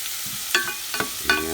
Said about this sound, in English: Stir the crap out of this.